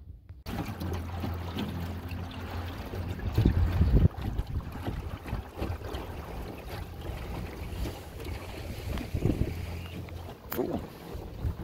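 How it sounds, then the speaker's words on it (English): Water sloshes and splashes near the microphone amid wind rumble and hull knocks, with a few heavier thumps as a boat is pushed into the water in Kentucky. "he's putting his boat in the water right now"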